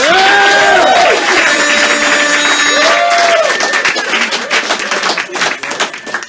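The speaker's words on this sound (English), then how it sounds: "Clap it up for Mike Lawrence." A comedy club crowd claps and cheers loudly for a comedian taking the stage, with whoops and shouts over continuous applause that gradually thins out.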